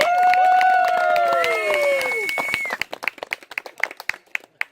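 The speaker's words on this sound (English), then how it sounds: "So a big hand of applause for Jonathan and Phil" Applause for Jonathan and Phil at a Survivor Games gathering begins under a long, sustained whooping or tonal call, then thins to scattered, sharp individual claps that fade out unevenly.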